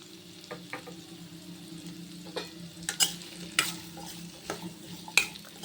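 Sliced onions with salt and a pinch of turmeric frying in a pan, a soft steady sizzle with repeated scraping and clinking strokes of a spoon as they are stirred, close and moderately loud with no talk.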